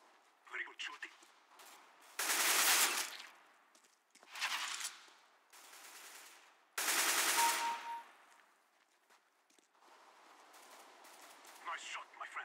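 Bursts of automatic rifle fire on the Dust2 map in Counter-Strike: Global Offensive deathmatch, three loud close volleys of a second or so each with quieter shots and voices between them.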